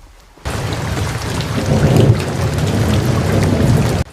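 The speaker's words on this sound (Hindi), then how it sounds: "तभी जोर की बारिश होने लगती है।" Heavy rain pours down in a loud, steady roar, with deep thunder rumbling beneath it.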